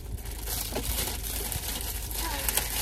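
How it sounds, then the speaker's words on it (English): Plastic packaging crinkles and crumples close by as it is opened, with a continuous rustling texture and a few sharper crackles. "We're going to take it out the package."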